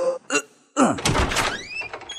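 A bedroom door inside a house being opened, a sharp thunk and creaking rattle after a couple of brief knocks, close and fairly loud, with some speech nearby.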